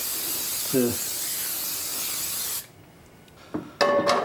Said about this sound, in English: All right, Nancy, I'm going to spray the skillet with some pan spray here.